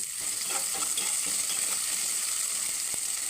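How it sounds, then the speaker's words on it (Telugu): Onion frying in peanut oil in a pan makes a close, continuous bright hiss of sizzling with faint stirring ticks underneath. "ఉల్లిపాయ వేసా చూడండి, ఇది కొంచెం వేగింది."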